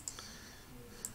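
Sharp mouse clicks in a quiet room: a single crisp click near the start, then a quick pair close together at the end, with no one speaking.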